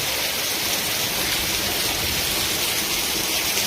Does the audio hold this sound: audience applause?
no